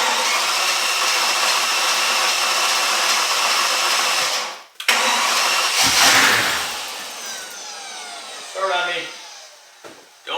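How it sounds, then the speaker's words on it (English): A Mercedes CL65 AMG engine cranks over on its starter without firing, a steady whirring drone that runs loud and continuous, breaks off briefly, then resumes before tapering into quieter intermittent bursts. "I want to crank this thing and get the power steering fluid and the ABC fluid moving without starting the engine."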